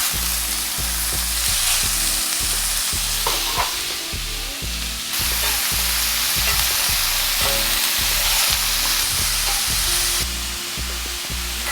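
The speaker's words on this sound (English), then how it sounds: "Into a hot pan, 1 tablespoon of avocado oil. I'm just gonna cook my steak in batches" Steak sizzles in a hot pan with avocado oil, a loud continuous close-up hiss and crackle layered over a rhythmic low thumping, with no voices.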